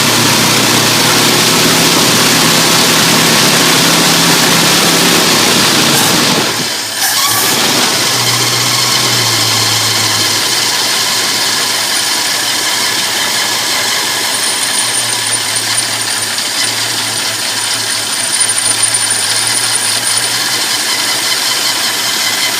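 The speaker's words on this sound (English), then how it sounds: "It idles a lot better than it ever has before" A 1965 Ford Mustang with a 289 V8 idles steadily on a freshly installed carburetor just after idle adjustment, a loud, close, even engine note; a brief dip partway through, then the smooth idle resumes with no talking.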